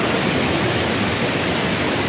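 Jatiluwih waterfall in Bali, a loud, unbroken roar of falling water filling the whole moment like dense white noise, close and with no voices.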